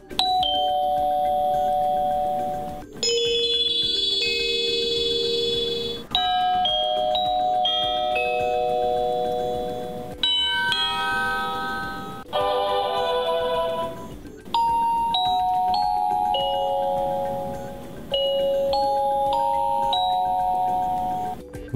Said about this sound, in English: comes equipped with 6 CD-quality chimes with adjustable volume